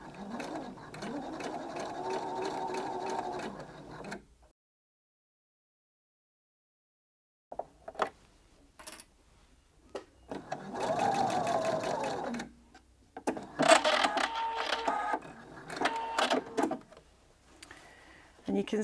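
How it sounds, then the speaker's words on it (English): A sewing machine stitches fabric while piping is sewn around a curve, running in several bursts with a quiet gap between them, with speech heard at times. "on a sewing machine"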